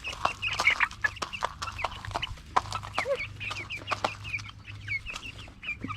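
A flock of backyard chickens clucking, with busy overlapping clucks and short calls coming fast and close in a steady chatter, some louder squawks standing out over a low background hum.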